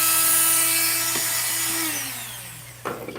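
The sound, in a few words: electric sander working on a barrel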